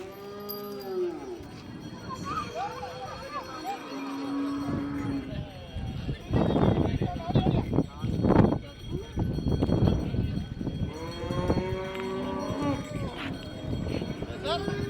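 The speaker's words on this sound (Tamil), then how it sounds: "மாடுகள் கொண்டு வர்ற காட்சி இப்படி." Cattle being brought in for a Pongal festival, several cows lowing with long drawn-out moos, some near and some farther off, amid crowd noise and people talking.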